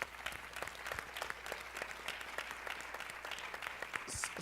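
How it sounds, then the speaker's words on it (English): Audience applause at an education summit on opportunity to learn, a steady patter of clapping from a modest crowd heard at moderate distance, fairly faint throughout with no talk over it. "Give Alberto a round of applause."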